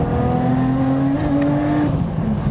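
A Nissan Skyline R32 GT-R converted to a single turbo with a full turbo-back titanium exhaust revs up, its engine note climbing and then easing off, loud and close, with no talking.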